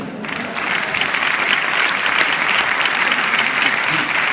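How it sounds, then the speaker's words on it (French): A hall audience at a women's award event breaks into dense, sustained applause that starts abruptly and holds steady and loud without letting up. "Je crois qu'on peut vous applaudir."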